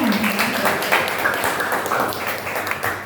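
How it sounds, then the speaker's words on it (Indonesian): An audience at a school socialization program applauds a guest, moderate clapping from a room full of people that is somewhat muffled and steady across the few seconds, with faint voices underneath. "Tepuk tangan dulu untuk Pak Warsono."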